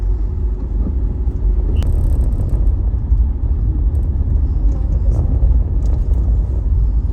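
Car interior at night on the drive to a seaside hotel restaurant in Pangandaran, a steady low engine and road rumble throughout with faint scattered clicks and rattles, no talking.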